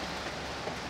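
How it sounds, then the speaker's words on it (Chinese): Rain falls steadily outdoors, a dense, even hiss of drops spread across the whole short moment, with no speech or other sounds standing out. "落雨"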